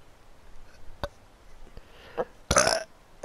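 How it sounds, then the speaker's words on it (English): A single loud, raspy burp erupts near the end, close to the mic, after a few soft clicks and faint background noise from a God of War playthrough. "Oh, my gosh. I keep burping."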